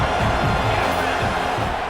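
Stadium crowd cheering on third down in a college football playoff video game, Penn State against Alabama, a steady broad roar of massed voices sustained throughout without letup.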